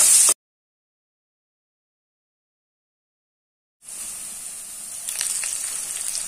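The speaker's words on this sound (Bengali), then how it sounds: "এটা আমরা একটু লালচে লালচে করে ভেজে নেব।" Two potatoes, cut into quarters, fry in oil until they turn reddish. A short loud burst gives way to silence, then a steady, moderate sizzling hiss continues on its own.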